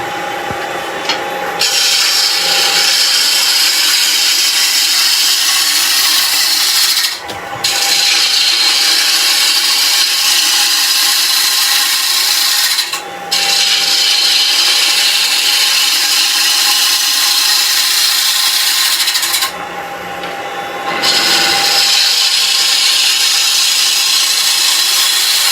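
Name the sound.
wood lathe turning a teak toffee dish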